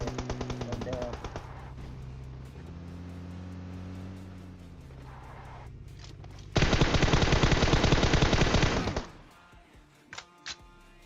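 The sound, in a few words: gunfire in video game PUBG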